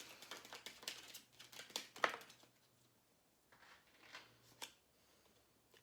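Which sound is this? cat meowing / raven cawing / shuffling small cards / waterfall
shuffling small cards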